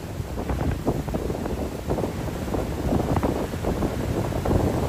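Strong wind buffets the microphone at Dolomite Beach, loud irregular roaring gusts rising and falling without pause.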